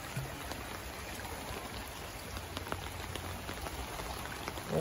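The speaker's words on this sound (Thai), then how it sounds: "น้ำไหลแรงมากครับวันนี้" Strong river water surges along in a steady, rushing hiss of spattering, broadband flow, moderately near, with a few sharper splashes and no speech.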